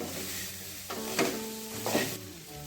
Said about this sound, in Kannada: ಸಣ್ಣ ಉರಿಲಿ ಬೆಂಡೆಕಾಯಿ ಫ್ರೈ ಮಾಡ್ಕೊಳ್ಳೋಣ ಮಧ್ಯೆ ಮಧ್ಯೆ ಸ್ವಲ್ಪ ಮಗ್ಚ್ತಾ ಇರೋಣ